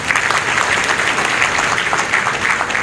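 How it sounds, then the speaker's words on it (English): Conference audience applauding Reverend Dlamini at a scientific gathering: dense, loud, continuous clapping from a large crowd, close and steady throughout with no voices. "Shall we encourage him with a round of applause?"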